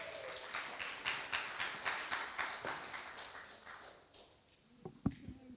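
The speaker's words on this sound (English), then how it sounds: "Let's give her a big round of applause" Audience applause at the Archbishop Desmond Tutu induction at Freedom Park, a steady wash of many hands clapping that fades out toward the end, followed by a couple of sharper knocks.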